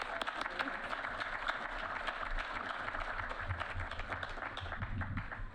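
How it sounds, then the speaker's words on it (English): An awards-night audience claps in a sustained, even burst of applause that stays at a moderate level for several seconds, heard from some distance in a large room. "Now, a round of applause."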